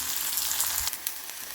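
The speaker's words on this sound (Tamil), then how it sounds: "இப்போ நம்மளோட வெங்காயம் நல்லா வதங்கிடுச்சு." Sliced onions fry in hot oil with mustard seeds, urad dal, dried chilli and curry leaves, giving a steady, close, hissing sizzle with small crackles and pops. The sound is alone, with no voices.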